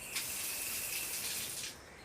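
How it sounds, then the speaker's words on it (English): Water runs steadily from a tap into a big old bucket for hand-washing laundry in India, a continuous close hiss and gush that eases off near the end, with no talking. "And you fill your bucket."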